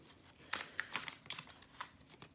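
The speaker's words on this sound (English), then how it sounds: "what I'm going to do is shuffle the cards" A deck of tarot cards shuffled close by in several short, soft riffling bursts, quiet and without any talk.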